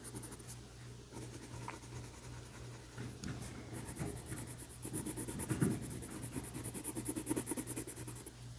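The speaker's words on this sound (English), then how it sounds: "And you don't have to press down hard when you're using coloring pencils." Colored pencil scratches softly across paper while a cucumber is drawn, a continuous light scratching that grows busier and slightly louder toward the end, with no talking.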